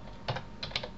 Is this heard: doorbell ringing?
no